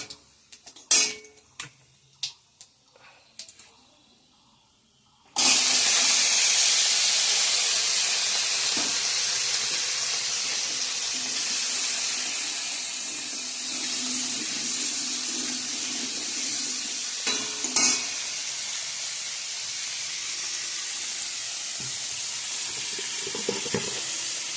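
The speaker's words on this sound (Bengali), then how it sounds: "এখন আমি মিষ্টি কুমড়ার ভাজাটা বসিয়ে দিয়ে দিব।" Sweet pumpkin slices frying in a pan give a steady, close sizzle and hiss that starts abruptly after a few quiet seconds with light clatter, then continues evenly to the end.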